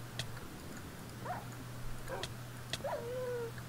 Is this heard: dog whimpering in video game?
yes